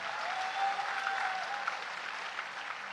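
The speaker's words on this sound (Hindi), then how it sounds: "उनके लिए ताली बजाइए जोरदार।" An audience at a university convocation applauds the girls who performed the Saraswati Vandana, a dense, even clapping that holds steady throughout at moderate distance.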